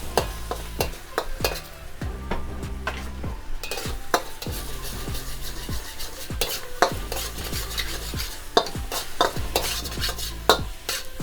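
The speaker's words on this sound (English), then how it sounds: "make sure you keep stirring because you don't want your egg to overcook neither." Eggs stirred and frying in a hot pan for a hibachi-style dinner, a steady sizzle under repeated scraping and clinking of a utensil against the pan, close and continuous throughout.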